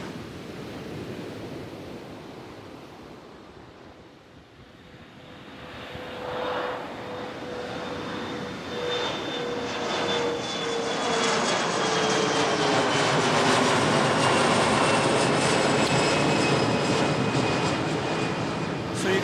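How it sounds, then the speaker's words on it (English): A small jet takes off nearby at an island airport in Jamaica beside the sea, its engine roar swelling from a low rumble into a loud, sustained whine and rush that keeps building to the end. "So you guys just saw a smaller jet take off."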